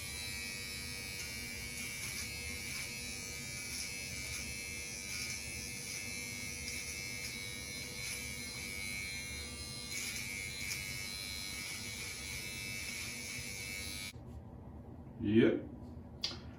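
A Remington Omniblade HG4000 electric shaver trimming a mustache hums with a steady, close buzz for about fourteen seconds, then cuts off, followed by a brief voice.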